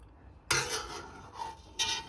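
Prawn saganaki with tomatoes and feta scooped from a proper cooking pot: a couple of brief metal-on-pot scrapes and clinks, close and fairly quiet, with a short pause between them and no talk.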